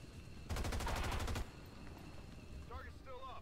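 Rapid burst of automatic gunfire from the XCOM 2 video game, a loud sustained volley of about a second followed by quieter game effects and faint chirps.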